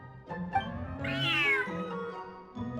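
A cat in the video game Genshin Impact meows clearly and close, with a long rising-and-falling cry in the middle and shorter mews around it, no talking.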